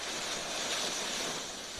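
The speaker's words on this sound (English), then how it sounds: "the sound of crashing waves and seagulls was slowly replaced by the sound of songbirds and the wind moving through the trees" Ocean surf washes against an island coast in a broad, steady roar that swells slightly midway and eases toward the end, with a faint windy hiss and no voices.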